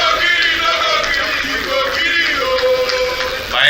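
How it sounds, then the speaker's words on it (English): At a political party national convention, a large audience claps and cheers in a steady loud roar of applause, with scattered shouts rising above it. "a round of applause for Mr. Johnny Toji Derrick"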